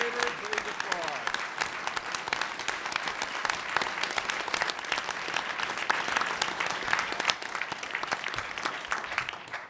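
Board of Trustees meeting attendees applaud together indoors: sustained, dense clapping from a room of people that keeps up steadily for several seconds, with a brief voice at the start before tapering off at the end.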